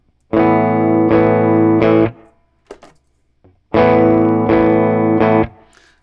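Two bursts of strummed clean electric guitar chords through a delay pedal with echo volume at minimum, each ringing about two seconds, separated by a brief pause with a few faint string and handling noises.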